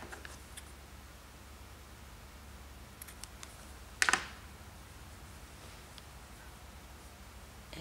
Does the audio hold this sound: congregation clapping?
no